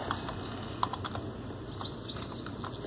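Someone types into the Roblox chat on a computer keyboard, quiet, quick key clicks close by, with no talking.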